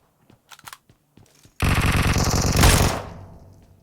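Automatic rifle fire in PUBG Mobile, an AK burst near a hangar: a long, loud, continuous rattle of rapid shots lasting over a second, preceded by a few faint clicks and footsteps, then tailing off.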